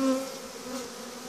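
Honey bees hum during a spring hive inspection on a two-box colony, a soft, steady buzzing drone heard briefly and faintly with no voice over it.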